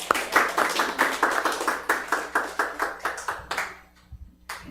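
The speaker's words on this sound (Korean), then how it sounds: "하나님께 영광의 박수를 올려드립니다" A congregation at a prayer meeting claps together in a steady, even rhythm, which fades out near the end.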